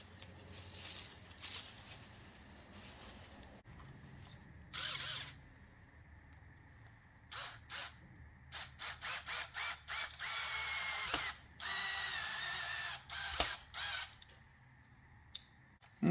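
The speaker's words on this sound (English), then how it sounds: "Use that drill bit to push it in." A cordless drill whirs in a string of short bursts, then a couple of longer runs, close by with faint clicking and handling noises between, its battery almost dead.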